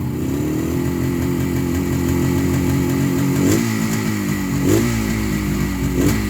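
A 1972 Suzuki T500 Titan two-stroke motorcycle engine idles steadily while warming up on a chilly day, close and loud, with three brief throttle blips rising out of the rough, burbling drone.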